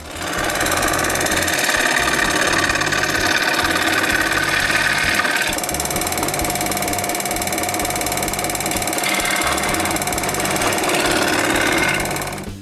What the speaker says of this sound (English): Since I'm useless with a fret saw, I cut the socket with a scroll saw.